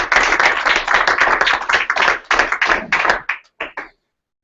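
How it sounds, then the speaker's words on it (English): An audience claps together in a room, a dense burst of close applause that thins into a few scattered claps before stopping. "Give yourselves a round of applause."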